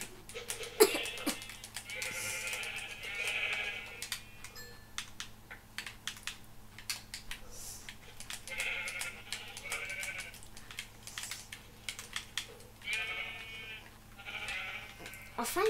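Sheep bleat in short repeated bursts over a steady clicking of computer keys, with a low hum underneath, in a video game.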